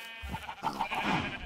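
Sheep in a video game farm bleat in a close, continuous run of wavering, nasal calls that overlap one another.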